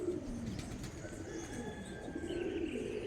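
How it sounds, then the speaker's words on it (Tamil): Pigeons in a loft coo steadily with occasional chirps over a continuous low murmur of birds, a busy flock close by with no voices. "இதுதான் நம்மளோட லாஃப்ட்டில் உள்ள புறாக்கள்"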